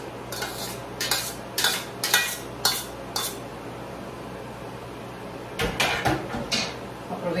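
Mushrooms and pasta stirred together in a pan, a utensil scraping and clinking against the metal in rhythmic bursts, loud and close, with a pause in the middle before another run of strokes.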